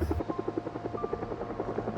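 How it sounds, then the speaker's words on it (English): A helicopter in the Project Zomboid video game passes overhead, its rotor beating in a fast, even thumping pulse that stays prominent throughout. "Of course, the damn helicopter had to show up."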